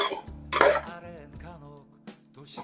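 Jackfruit is stirred with turmeric and salt in a pot, giving a quick close clatter and a few metallic scrapes and clinks of a spoon against the pot over a couple of seconds.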